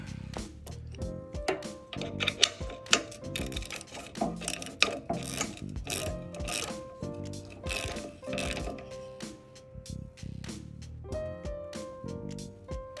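Mechanical clicking and ratcheting from tightening the drain plug on a pressure washer during an oil change, a busy run of close metallic ticks and clunks lasting the whole stretch.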